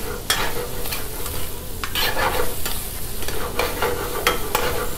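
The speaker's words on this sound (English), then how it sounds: "put the on high flame and just saute the onion" Onion sautéing on high flame in a tawa, a loud steady sizzle with repeated scraping stirs of a spatula, close and without talk.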